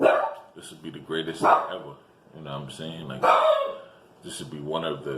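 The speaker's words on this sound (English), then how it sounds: "sorry, that's my dog." A pet dog barks a few times in the background while someone talks continuously close to the microphone, the barks brief and partly masked by his voice.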